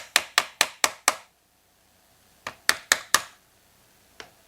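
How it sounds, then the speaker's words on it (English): Sharp metal-on-metal hammer blows on a chisel while working on a Husqvarna 240 chainsaw engine: a quick burst of five strikes, a pause, then four more and one lighter final tap, close and distinct. "My hammer and my chisel."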